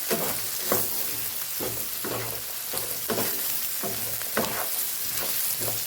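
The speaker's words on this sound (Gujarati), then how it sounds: "બધું સરસ મિક્સ કરીને આપણે સાતડી લેશું" A Kathiyawadi winter mixed-vegetable shaak, seasoned with red chili powder and salt, sizzles in a pan under steady rhythmic stirring, a spoon scraping about every second over a loud, continuous frying hiss.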